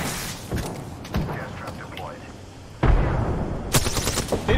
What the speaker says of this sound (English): I'm shooting his feet.